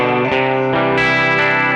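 An electric guitar plays clean chords straight into an amplifier, with a light stereo chorus shimmer and reverb from the amp's own spring, ringing chords that change in quick strums.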